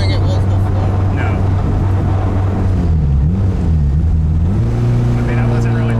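A turbocharged K24 engine swapped into a Nissan Cefiro roars loudly from inside the car, the pitch climbing and wavering under load, with occupants talking over the drone.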